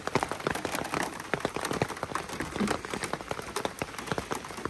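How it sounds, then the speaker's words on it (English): Rain falling steadily around a Rivian R1T pickup truck, a dense patter of drops striking nearby surfaces with no speech over it. "It is raining."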